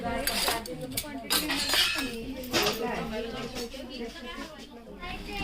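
A metal grate is set onto a gas stove in a home kitchen, giving a clattering run of metallic clinks and knocks close by, with a voice talking over it.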